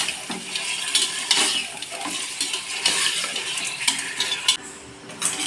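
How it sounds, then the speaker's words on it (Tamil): Chicken stirred and sautéed in hot oil in a pan, with repeated scraping and clinking of a metal spoon against the pan over a soft sizzle, close and fairly loud throughout. "டூ மினிட்ஸ் எண்ணெயில் நல்லா வதக்கிடலாம் சிக்கனை."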